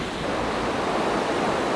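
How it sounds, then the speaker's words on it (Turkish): Strong underground river rushes through a cave in the world's largest cave system, a steady, loud, dense roar of fast-flowing water with no pauses throughout. "şu an mağaranın içinden güçlü bir yeraltı nehri akıyor"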